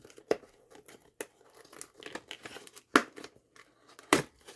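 Cardboard box flaps being torn open while unboxing a Black & Decker Flamebuster SMK-6D/M1 smoke detector: quiet, close tearing and crinkling in a few sharp bursts separated by softer rustling.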